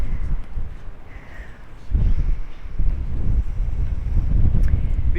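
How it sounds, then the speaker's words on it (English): Strong, gusty wind buffets the microphone at a guard tower in blustery Yuma, Arizona, a loud, rumbling roar that swells and eases in surges. "the wind is horrific"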